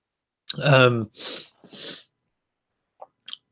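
A single sharp sneeze bursts out, followed by a couple of breathy exhalations, then brief quiet with a few faint clicks.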